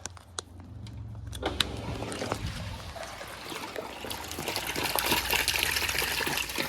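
Aquarium filter in a newly set-up 6ft fish tank switched on, its pumped water trickling, then gushing steadily and growing louder as the flow builds.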